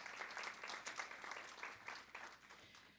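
Applause for a modified soccer team celebrating a perfect season at a school board meeting: a short burst of hand clapping from a modest crowd, steady and fairly faint throughout.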